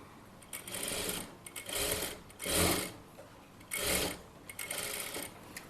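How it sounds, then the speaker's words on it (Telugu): A sewing machine stitches frills onto cloth in several short bursts of whirring, each separated by brief pauses, heard close up with no voices. "ఈ క్లాత్ ఏదైతే ఉందో దీని మీదకి ఈ ఫ్రిల్స్ కొద్దిగా ఇలా పెట్టుకొని లిటిల్ బిట్ అప్పుడు స్టిచ్ చేసుకోవాలి"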